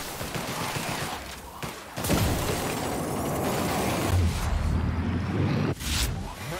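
The Outer Worlds video game plays dense, continuous combat noise with a heavy gun firing close and loud, alongside rumbling effects and a few sharp thumps.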